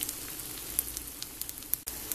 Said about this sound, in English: now I'm pouring in some Italian sausage and shrimp